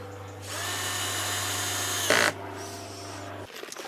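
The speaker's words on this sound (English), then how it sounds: "for these 4-inch butt hinges, I'm using some 5 by 30mm screws" A power drill drives 5 by 30mm screws into 4-inch butt hinges on a door. A close, steady motor whine lasts about three seconds with a brief strained surge near the end, then a few faint handling clicks.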